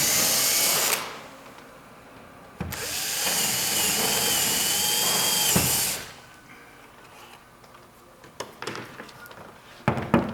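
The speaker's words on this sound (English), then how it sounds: "We'll also drill this hole for the wrench access." Power drill boring a hole for wrench access in a model railroad layout build, two loud whirring bursts a few seconds each, followed by quieter clicks and handling noises.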